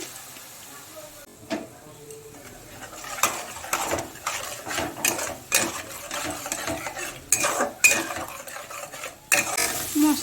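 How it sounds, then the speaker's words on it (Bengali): Spice masala of cumin, coriander, turmeric and chilli powder with a little water is stirred in a pan, producing irregular spoon clinks and scraping strokes over a faint sizzle, with a voice heard briefly. "একটুখানি জল দিয়ে মশলাটাকে ভালো করে কষিয়ে নেব"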